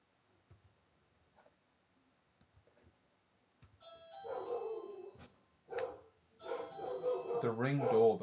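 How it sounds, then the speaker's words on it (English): A Ring video doorbell chime sounds indoors after a quiet stretch with a few soft clicks. Barking and voices follow close behind. "The Ring doorbell."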